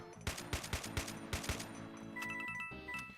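Gunfire in Doom: The Golden Souls 2, six evenly spaced loud shots in the first half over a steady game drone, followed by tonal game sounds.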